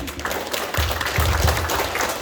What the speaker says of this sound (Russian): Бурные аплодисменты выпускникам 2022 года